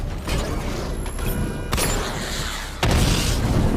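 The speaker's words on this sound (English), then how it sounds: "Destroy targets to charge up weapon energy and activate missile barrage" A missile barrage fires in the Batman Arkham City video game, heard as mechanical clanks and whooshing booms with a sharp crack midway and a louder burst near the end.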